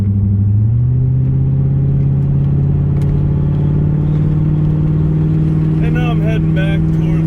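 C4 Corvette with new tires cruising on a rural road: a steady, loud engine drone and road rumble fill the whole stretch, shifting slightly in pitch near the start as the car takes corners.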